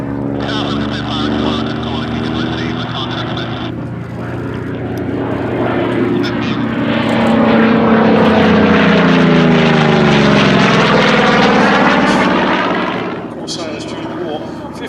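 A Goodyear Corsair FG-1D propeller fighter drones loudly overhead at the Shuttleworth Fly Navy airshow, its engine roar swelling and then easing as it passes, with announcer-style talk faintly under the noise.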